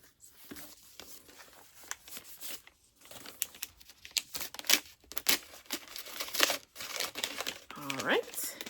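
Paper and bubble wrap crinkle and crackle as a book is unwrapped, a close run of rustling and crumpling bursts that grow busier toward the end, with a voice talking in places.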